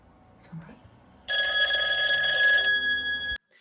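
A telephone rings with a bright electronic trill, one long loud burst of about two seconds after a quiet room with a faint voice, then stops abruptly as the call is answered.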